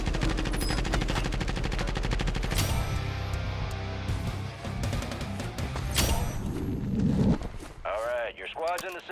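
Rapid automatic gunfire crackles in a Fortnite-style battle royale match, dense bursts stacking up over several seconds amid footsteps and game effects, with a player talking over the shooting.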